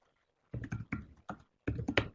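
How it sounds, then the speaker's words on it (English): Quick bursts of typing on a computer keyboard, clustered keystroke clicks in several short groups, close and fairly quiet with silence between. "I'm going to type just a quick little message into him"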